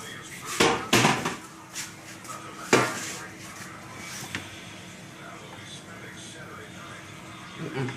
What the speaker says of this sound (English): so I've got all different sizes of pans